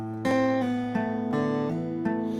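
Acoustic guitar notes ring out with smooth slurred pitch changes from hammer-ons and pull-offs, a few short decorative phrases played alone and close.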